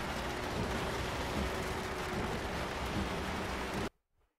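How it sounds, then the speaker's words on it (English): Steady heavy rain in a racing video game hisses loudly and evenly, drowning out the engine, then cuts off abruptly into near silence. "Why am I hearing rain more than I'm hearing my engine?"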